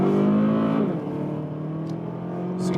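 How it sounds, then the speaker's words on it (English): A 2016 Cadillac ATS Coupé with a 2.0-litre turbo and AWD revs hard at high RPM. The loud engine note falls in pitch after the rev, then settles into a steady interior drone. "see it's a lot of high RPMs and the sound is also according to these high RPMs"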